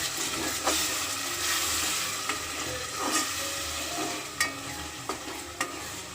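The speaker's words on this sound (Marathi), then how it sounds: "आता आपण टाकत आहोत त्याच्यामध्ये टोमॅटो पेस्ट" Tomato paste fries with cooked onions in a pot for biryani, a steady moderate sizzle broken by several sharp stirring clicks and scrapes.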